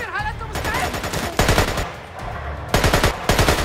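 Burst-fire gunfire from an assault rifle in the video game Splinter Cell: Conviction cracks out in several rapid volleys, loud and close, with short pauses between bursts.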